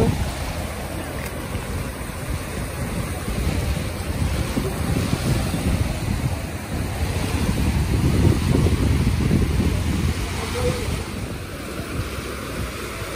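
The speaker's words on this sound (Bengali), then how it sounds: "সমুদ্রের পানির যে শব্দটা, এই শব্দটা আমার কানে যখন লাগে তখন মনে হয় যে এত বেশি প্রশান্তি" Sea waves wash in on Riccione beach in Italy, a continuous roar of surf with swelling surges, mixed with wind buffeting the microphone and no speech.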